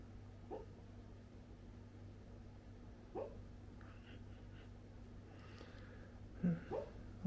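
A dog lets out a few short, faint yips and whimpers at irregular intervals over a steady low household hum, quiet and somewhat distant.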